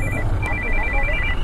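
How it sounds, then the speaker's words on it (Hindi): A mobile phone ringtone sounds in short repeating beeps during a motorcycle trip through the Himalayan roads near Chamoli, over steady low road and wind rumble. "फोन आ रहा मेरा तो।"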